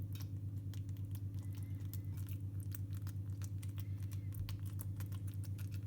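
Fingertips press repeatedly into oiled sourdough focaccia dough, giving a quick series of soft, close sticky pokes and taps over a steady low background hum.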